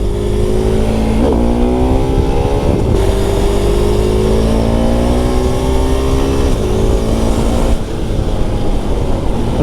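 A Husqvarna Svartpilen 701 twin-cylinder motorcycle being ridden, its engine droning loud and close with rising and falling revs as the rider works through gears, continuous wind rush underneath and no speech.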